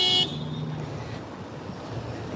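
A car horn honks briefly and loudly at the start on Massachusetts Avenue at Scott Circle in Washington, D.C., then cuts off, leaving low street traffic rumble.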